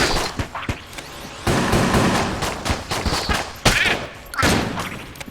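Enemy gunfire from the Enter the Gungeon video game, blue enemies firing twice: dense bursts of cartoonish shots and impacts crackle over a busy game soundtrack, with sharp louder blasts punctuating the steady clatter.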